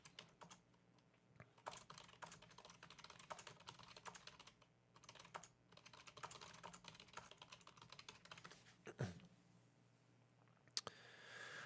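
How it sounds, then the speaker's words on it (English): Rapid, continuous typing on a computer keyboard during a live tennis play-by-play stream, with steady clicking keystrokes close to the microphone and brief pauses, with no talking. "Typing to you right now, Leslie."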